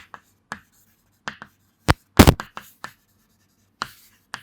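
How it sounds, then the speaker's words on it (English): Chalk or marker writing on a board during an electricity lesson, with sparse short taps and scratchy strokes spaced irregularly, plus one louder scrape, close and alone without talk. "So we can also write here, Kirchoff's first law"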